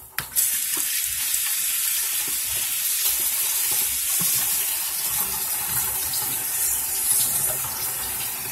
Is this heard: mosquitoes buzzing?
no